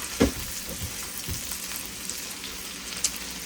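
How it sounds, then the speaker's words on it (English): Cauliflower charring in a pan crackles with a close, steady sizzle, broken by a few quick clattering stirs in a brief moment. "So I just took the top off and just giving them a stir."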